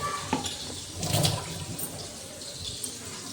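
Water gushes and splashes from a tap as hands are washed, a close, uneven rush with brief louder bursts and small clatters, continuing steadily throughout.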